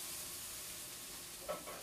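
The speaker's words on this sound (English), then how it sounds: "Now our pan is nice and hot, so it's sizzling." A peanut butter and banana sandwich sizzles steadily in a hot pan, a soft continuous frying hiss with a couple of brief louder crackles near the end.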